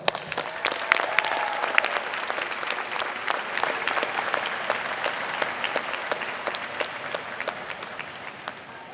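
An audience at a college diploma and awards ceremony applauds a group of graduates, sustained crisp clapping with distinct individual claps, steady throughout and easing slightly toward the end.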